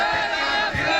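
A rally crowd shouts back in loud unison, a dense wall of massed voices that holds steady for the whole moment with only a brief dip partway through.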